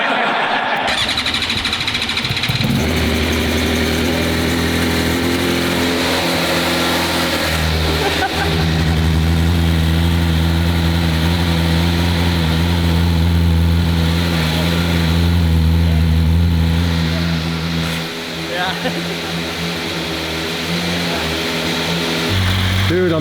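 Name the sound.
2026 BMW motorcycle engine starting and idling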